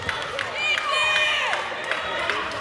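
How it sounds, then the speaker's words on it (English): A Queensland handball crowd cheering and shouting after a goalkeeper's save in a women's gold medal match, with excited voices and whistles rising and falling around an indoor arena, close and lively. "The Queensland crowd are going absolutely wild"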